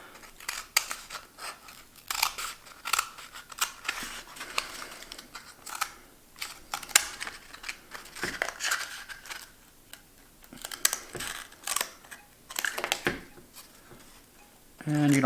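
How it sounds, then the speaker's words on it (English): Scissors snipping through a cardboard toilet paper roll while making a phone holder, with a run of quick crisp cuts and crinkles close up, pausing and resuming with short gaps. "take your scissors and cut out the markings that we just made"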